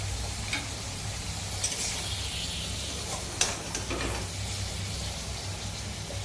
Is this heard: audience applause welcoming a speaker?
no